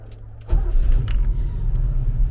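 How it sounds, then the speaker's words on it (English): A classic Trojan 37 sport fish yacht's inboard engine cranks and catches after half a second, then settles into a deep, close, throaty idle rumble. "we'll give her a start up,"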